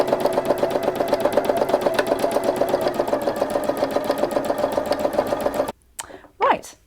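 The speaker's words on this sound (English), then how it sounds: "So I'm just steadily sewing, and I'm not doing too much sewing, just going from side to side." Sewing machine stitching free machine embroidery on fabric backed with Bondaweb, a steady fast mechanical chatter running evenly and close for almost six seconds before it stops abruptly, followed by a few brief handling noises.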